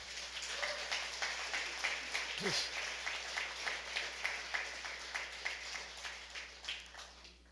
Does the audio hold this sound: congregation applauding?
yes